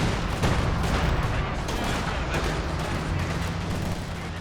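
Heavy battlefield barrage from a close air support strike in Company of Heroes 2, a loud continuous roar of gunfire and explosions rumbling without a break for several seconds, with faint voices mixed underneath.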